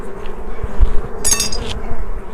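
Honey bees buzz close by in a steady, droning swarm while a package of bees is installed into a hive with drawn-out comb. Soft handling thumps and a brief rustle come through under the hum.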